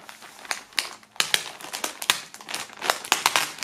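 Crinkly plastic wrap rustles as a sealing sticker is peeled off a plastic-wrapped subscription box holding a T-shirt; a close run of sharp crackles and crumpling bursts in an uneven rhythm, with no talking.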